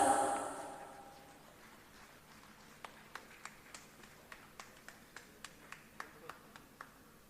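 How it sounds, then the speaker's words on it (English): Sparse, evenly spaced claps from an award ceremony audience, a steady tap every half second or so, faint and distant after a brief louder wash of noise at the start. "may I please have a big round of applause?"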